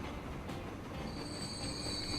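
A train pulls into a station in the 1925-era railway game Transport Fever, steam locomotive era, with a continuous rolling rumble and a sustained high wheel squeal rising partway through, fairly quiet and without speech.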